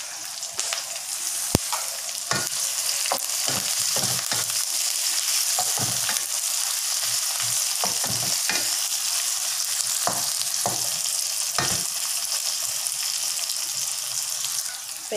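Green chilies, garlic and curry leaves hiss loudly in hot oil for a fish ball sambal, a dense continuous sizzle broken by repeated sharp spatters and the clack of stirring.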